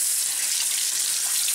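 Tap water runs steadily into a sink as salt is rinsed from cured salmon eggs in a strainer, a continuous close hiss and splash with no talk.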